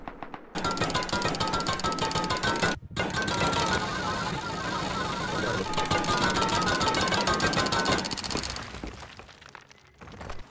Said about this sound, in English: Jackhammer actually, they're so broken now.